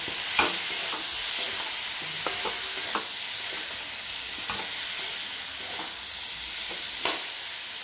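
Pointed gourd and potato frying in a pan with cumin powder, a steady bright sizzle with sparse spatula taps and scrapes as the pieces are stirred, close and even.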